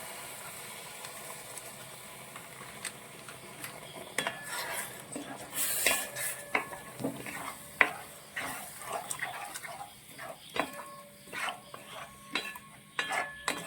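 A spoon stirs a banana sweet mixture with semolina and milk in a pan, making repeated metallic scrapes and clinks against the pan in an uneven rhythm, close and fairly loud, with a soft sizzle beneath.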